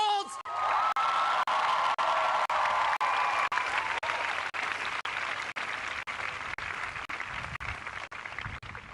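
A large outdoor commencement crowd at Dartmouth's 2011 graduation breaks into loud, continuous applause with scattered cheers and whoops, a broad wash of clapping sustained throughout.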